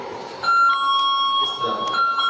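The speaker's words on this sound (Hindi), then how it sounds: "इसके बीच में से कोई भी गुजरेगा, अलार्म शो करेगा" A motion alarm on a sensor beam sounds as someone passes between the sensors, a steady electronic tone with overlapping pitches that holds for about two seconds indoors, with a voice talking underneath.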